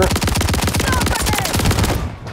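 Rapid, loud gunfire of shotgun slug rounds cracks out in a dense, fast string of shots lasting about two seconds before cutting off.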